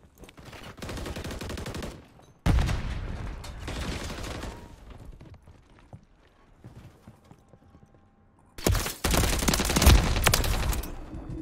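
Gunfire in Modern Warfare 3 comes in two dense, loud bursts of rapid shots separated by a quieter stretch of faint mechanical clatter.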